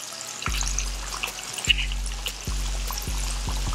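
Chicken wings fry in a pan with a steady, close hiss and crackle, broken by a few low clunks as pieces are set in or moved.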